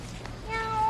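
A cat meowing once, a short close tonal call rising toward the end, fairly quiet against a faint room background.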